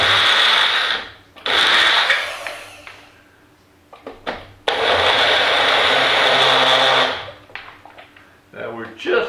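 A blender runs in loud bursts blending a yogurt smoothie, two long whirring pulses with pauses and rattling between, a shorter burst near the start and a brief one at the end.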